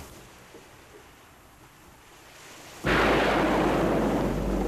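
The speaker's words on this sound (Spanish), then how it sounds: "Este lanzamiento ha fallado, probablemente a causa de un mal funcionamiento del sistema de propulsión." A quiet, low rumble swells, then abruptly bursts into a loud, sustained roaring blast that continues steadily to the end, from a failed missile launch with a propulsion malfunction.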